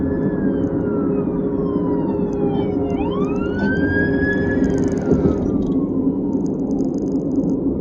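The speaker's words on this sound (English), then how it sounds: "It's a fire truck and an ambulance. You're gonna hear it in a little bit." Wailing fire truck and ambulance sirens sweep up and down as the vehicles pass, loud over a constant road rumble, with two siren tones overlapping before fading.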